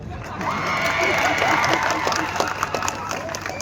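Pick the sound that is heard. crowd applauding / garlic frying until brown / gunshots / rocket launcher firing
crowd applauding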